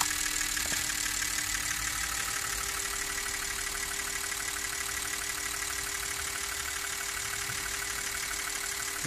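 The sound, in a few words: BMW E39 EV conversion electric motor idling at 200 RPM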